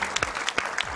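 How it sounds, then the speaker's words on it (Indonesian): A television studio audience briefly applauds a young medal winner, a second of separate, uneven claps, close and moderately loud with no talk over them. "tepuk tangan sekali lagi buat Muhammad Inaya."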